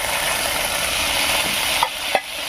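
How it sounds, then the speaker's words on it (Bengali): Ground spice paste and a little water going into a hot frying pan, a loud continuous close-up sizzle and hiss, briefly dipping near the end before another sharp spurt and the steady frying resumes. "এবার এর মধ্যে দেবো বেটে রাখা মশলাটা দিয়ে দেবো সামান্য একটু জল"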